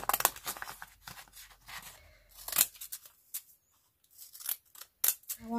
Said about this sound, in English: Just cut around it.